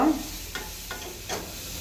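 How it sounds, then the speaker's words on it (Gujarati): Chickpeas cooking in a pan over a full gas flame, a soft continuous sizzle with a few gentle stirring scrapes, close and steady. "ફૂલ ગેસે 1 મિનિટ મેં ચણાને ચડવી દીધા છું."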